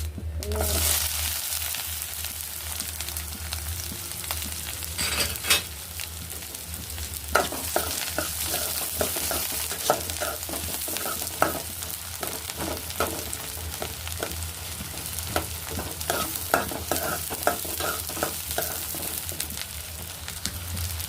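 Onion fries in oil with mustard seeds, cumin and fenugreek for a bottle gourd stew, a long steady sizzle near at hand with frequent scraping and tapping of a stirring spoon.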